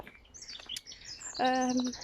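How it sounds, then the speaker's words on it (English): Birds sing outdoors in short chirps and a brighter, more tonal warbling phrase near the end, moderately close over quiet background. "I'm just gonna stand here and let you listen to the birds for a little while"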